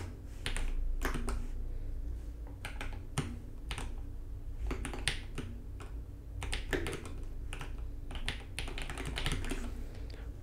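Fingers typing on a computer keyboard in quick irregular bursts of close, crisp key clicks with short pauses between, alone and fairly quiet.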